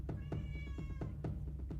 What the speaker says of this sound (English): I have a kitty coming in here.